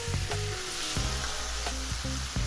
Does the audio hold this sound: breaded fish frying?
yes